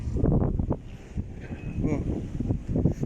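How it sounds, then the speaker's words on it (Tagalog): Wind buffets the microphone in a low, steady rumble, with a person talking over it outdoors by choppy water. "Medyo mahangin na."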